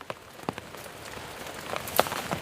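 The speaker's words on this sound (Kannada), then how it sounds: "ಮಳೆ ಬರ್ತಾ ಉಂಟು" Rain falling on a garden plot where vegetables grow, a soft steady patter with scattered louder drops striking nearby surfaces, heard close and without speech.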